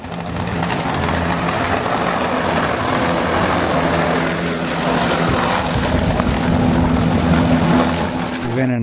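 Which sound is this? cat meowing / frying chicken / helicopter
helicopter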